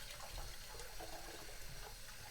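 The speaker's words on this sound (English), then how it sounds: "So I'm just gonna take some warm water and just wash the tops" Warm water runs from a kitchen tap over chicken pieces as they are rinsed for buttermilk fried chicken, a soft, steady rushing and splashing with no talk.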